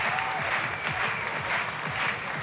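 Crowd at a men's bouldering final at the 2022 European Championships in Munich clapping steadily and continuously, a dense even wash of applause throughout.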